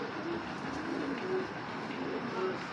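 Several Johnson pigeons coo in low, soft bursts that repeat over a steady murmur of background noise.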